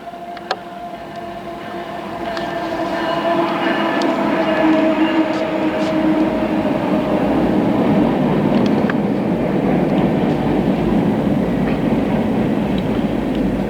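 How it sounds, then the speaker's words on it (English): A long westbound CSX freight train rumbles past nearby on the Adirondack line in New York, building from a quiet start into a steady heavy roar with faint wheel clatter and squeal. "Here comes a westbound CSX freight."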